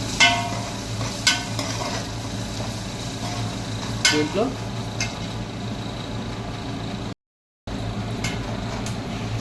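Chicken curry spices with green chillies, bay leaves and cinnamon stirred in a frying pan, a close, continuous sizzle broken by sharp scraping strokes of a spoon against metal, with a brief gap of silence near the end.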